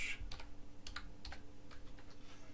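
Short bursts of typing on a computer keyboard as a basic command is entered on a Windows 8.1 PC, with irregular clicky keystrokes over a low background hum and no voices.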